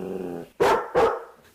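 Two loud, close dog barks in quick succession, sharp and full, following a lower growling tone and ending in quiet.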